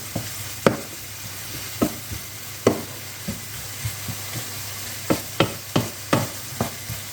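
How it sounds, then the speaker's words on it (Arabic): Shrimp frying in a pan with paprika, a loud close sizzle punctuated by repeated sharp scrapes and taps of a spoon stirring in an irregular rhythm, no voices over it. "صافي غادي نقلي"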